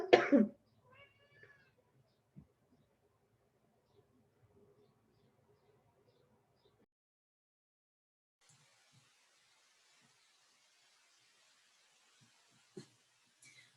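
A woman gives a single loud cough right at the start. A quiet room with faint, scattered small noises follows.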